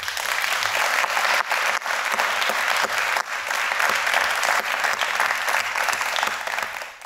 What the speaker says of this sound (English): I'd like to give a round of applause to Molly Beckley.